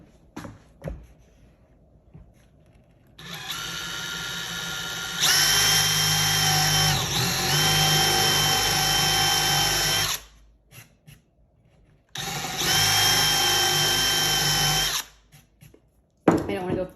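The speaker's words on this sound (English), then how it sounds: "Have the 1/2 inch on there because I'm drilling a hole." A power drill fitted with a 1/2 inch bit bores into scrap wood in two long, loud whirring bursts separated by a pause, with brief handling clicks and faint talk before and after.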